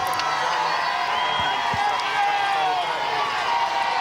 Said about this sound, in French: Et le pape fait son entrée sous les acclamations.